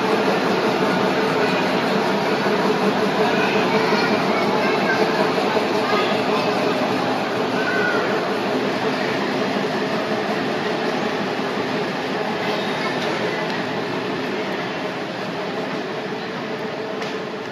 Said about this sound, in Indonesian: Ternyata kereta apinya dilangsir mundur teman-teman.